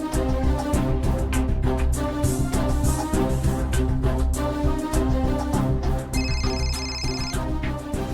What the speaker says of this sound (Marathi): फोन बहुतेक कुणालचाच असावा.